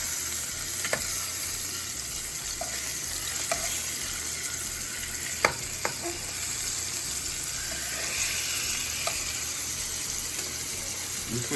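Salmon fillets sear in a hot frying pan for coconut curry salmon, giving a soft, steady sizzle throughout. Occasional light clicks and taps from the pan or utensil sound over the frying.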